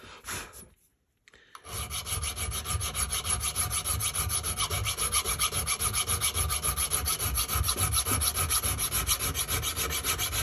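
A hand file rasps steadily back and forth along the edge of an old hatchet being refurbished and sharpened, close and loud, in fast even strokes after a brief pause at the start.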